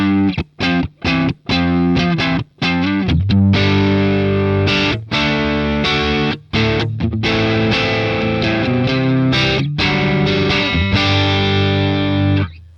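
Crunchy overdriven electric guitar through a Boss Katana amp's crunch channel, choppy palm-muted chugs giving way to ringing distorted chords, loud and up close.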